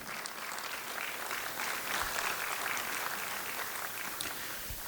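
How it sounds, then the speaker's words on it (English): Steady applause from an audience fills the clip, a dense even clatter of clapping hands with no break. "Can I have a round of applause for Treasurer CA Ashna Mulgaonkar?"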